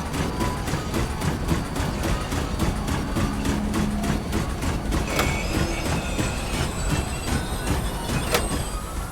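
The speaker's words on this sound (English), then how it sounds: "That train ride was unexpected." A train ride in The Long Dark video game: a steady rumbling roll with rhythmic clickety-clack of wheels over rail joints, metallic squeals and creaks joining partway through, continuous and fairly loud with no voices.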